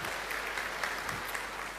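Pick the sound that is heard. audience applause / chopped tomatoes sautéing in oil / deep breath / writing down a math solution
audience applause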